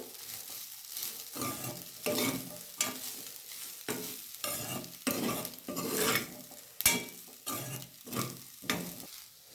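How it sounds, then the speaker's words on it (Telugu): A spoon scrapes around a pan as pepper powder is mixed into a sizzling dish, about nine rhythmic stirring strokes over a soft, steady frying hiss, fairly quiet and close, with no talking. "ఇప్పుడు మిరియాల పొడి బాగా మిక్స్ అయ్యేంత వరకు కలుపుకుంటున్నాను"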